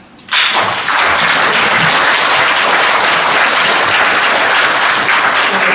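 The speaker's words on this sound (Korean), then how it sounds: "큰 박수로 환영합니다" An audience at a memorial academic conference bursts into loud applause welcoming a speaker, starting abruptly and holding a full, steady roar of many hands clapping close by.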